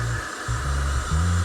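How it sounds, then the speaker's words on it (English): A handheld blow dryer blows steadily over a plate of fake gold, a constant whooshing airflow with a low motor hum that shifts slightly in pitch, close and fairly loud throughout. "with a little bit of air from the blow dryer"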